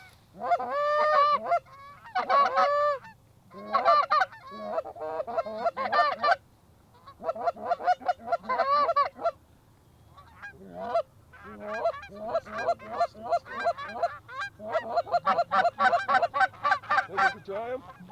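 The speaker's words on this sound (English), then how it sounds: "more geese" Flocks of geese honk repeatedly in flight over a duck and goose hunt opener in Canada, with overlapping calls coming in bursts that swell and fade, some near and loud, alongside brief quiet talk among hunters.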